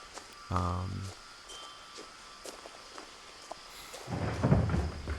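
In the video game What Remains of Edith Finch, a low rumble of thunder swells in the last second or so over faint ambient wind, after a brief tonal hum and a few soft clicks earlier.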